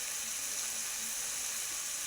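Red amaranth greens seasoned with salt and turmeric fry in a pan, giving a steady, close sizzling hiss that holds evenly throughout with no talk.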